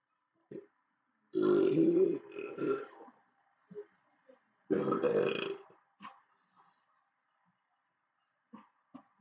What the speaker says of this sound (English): So you're burping like you're eating donuts that have the ooze in it